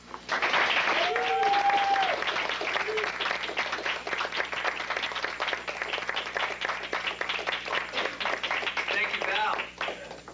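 A crowd applauds at a Toastmasters awards meeting with dense, sustained clapping for about ten seconds, with a few cheers and whoops mixed in before it tapers off.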